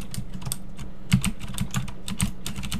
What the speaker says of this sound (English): Man, this keyboard is so loud.